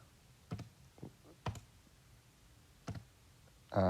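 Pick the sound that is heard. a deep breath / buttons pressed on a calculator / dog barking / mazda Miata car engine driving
buttons pressed on a calculator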